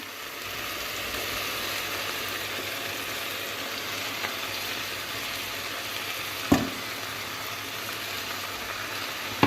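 Finely chopped potato and carrot sautéing in a pan give a steady, loud, close sizzle throughout, broken by a couple of sharp spatula clicks against the pan.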